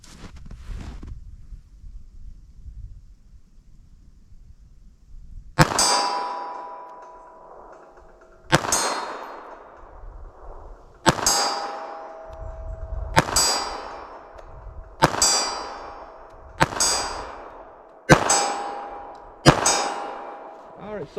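A pistol firing .32 ACP Fort Scott TUI rounds into ballistic gel, seven sharp loud shots after a quiet start, spaced a couple of seconds apart and then quickening, each with a ringing metallic decay.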